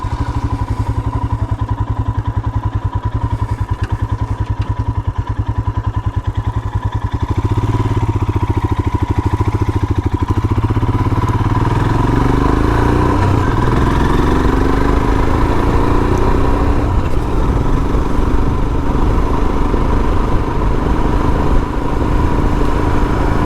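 A Royal Enfield Himalayan motorcycle engine on a back-road ride in central Pennsylvania, loud and close with a steady thumping single-cylinder throb that rises in pitch as it pulls away, with wind rush and no talk.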